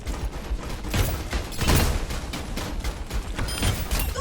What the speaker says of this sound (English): That's his turret.